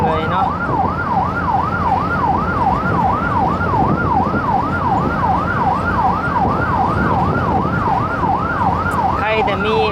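Rescue-team ambulance siren wailing loudly in a steady rising-and-falling cycle over a vehicle's running engine and road noise, continuous and close throughout.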